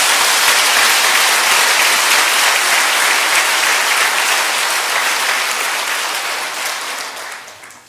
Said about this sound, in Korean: 한 번 더 우리 격려의 박수 해드리겠습니다